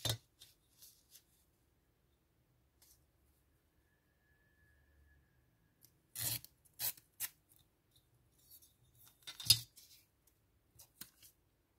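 Scissors trim the border off paper for a bullet journal: sparse, quiet snips and paper rustles in near silence, with a few crisper cuts clustered later on.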